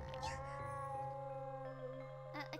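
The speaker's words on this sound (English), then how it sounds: "A cat's voice?" A cat meows in a video game, a long, clear, wavering call that rises and falls in pitch and is heard alone over a quiet musical backdrop.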